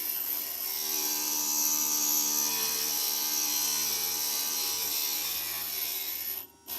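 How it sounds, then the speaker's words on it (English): Stained glass pieces for a landscape panel with trees and a moon are ground on a glass grinder: a steady, loud, high-pitched whirring grind that runs unbroken and cuts out briefly near the end. "Get this all grinded down."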